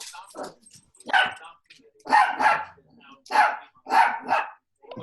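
Dog barking in repeated sharp bursts, about five barks with short gaps between them, close and loud, with faint voices in the background.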